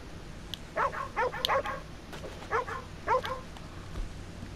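Dog barking and whimpering in the Red Dead Redemption 2 video game, several short yips and barks in quick bursts over a low ambient rumble, with brief whining between them.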